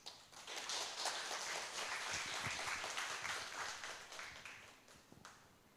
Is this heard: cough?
no